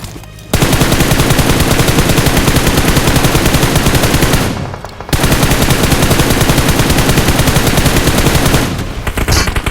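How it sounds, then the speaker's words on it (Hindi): Sustained automatic gunfire in a battle royale video game: loud, rapid bursts that pause briefly, resume, and taper off at the end. "अब देखो लेफ्ट की साइड से फायरिंग होती है"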